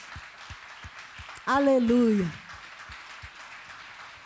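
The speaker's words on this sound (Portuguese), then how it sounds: "Você pode aplaudir o Senhor?" A church congregation claps in a steady, rhythmic beat of sharp individual hand claps, briefly overlaid by a loud sung exclamation from a voice partway through.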